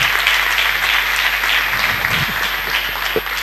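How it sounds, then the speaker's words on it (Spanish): A church congregation applauds during a sermon, a dense, loud round of clapping filling the room steadily for a few seconds without talk. "¿Cuántos pueden aplaudirlo a Él?"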